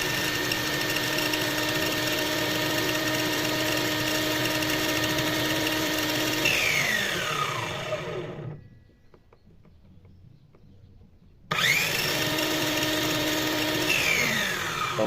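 A battery-powered Modern M60 circular saw whirs with a steady high-pitched motor whine, spins down to near silence, then starts up again at full speed.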